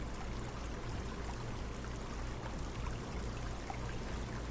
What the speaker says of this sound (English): We're near a waterfall.